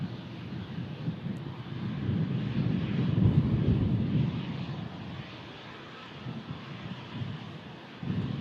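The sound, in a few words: TUI Dreamliner aircraft moving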